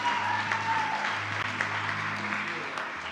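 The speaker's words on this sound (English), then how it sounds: "We'll give them a big round of applause." A church congregation at a Sunday service gives a round of applause, a dense, steady wash of clapping that holds at a moderate level through the whole stretch, with faint voices and a low hum beneath.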